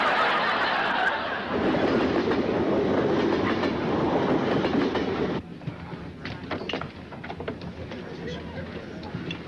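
A train rumbles steadily with dense rattling clatter that drops to a quieter, clicking roll partway through, while people talk over it.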